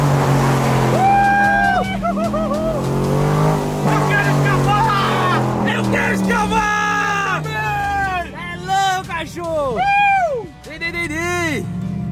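Car engine revving hard and roaring past at high speed, with repeated sharp rises and falls in pitch, close and loud, while excited voices shout over it.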